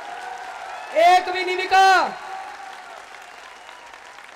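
At a political rally, a man's amplified speech is followed by a brief burst of crowd applause as the talking resumes.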